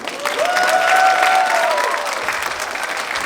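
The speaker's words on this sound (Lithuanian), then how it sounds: "Paplojam jam!" An audience at a birthday celebration show claps steadily in a dense burst of applause, with a brief whistle-like tone riding over the crowd noise early on.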